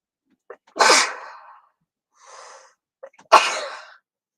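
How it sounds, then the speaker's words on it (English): A single sharp sneeze preceded by quick inhaling gasps, followed by a softer breathy sound and then a second forceful sneeze, close and alone. "Sorry, I'm going to sneeze."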